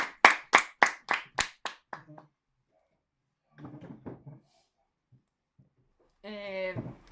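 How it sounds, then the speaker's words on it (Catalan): At a Catalan literary event welcoming a writer, a short run of about seven crisp, evenly spaced claps quickly trails off, followed by quiet and then a speaking voice. "rebem a aquesta escriptora amb un gran aplaudiment"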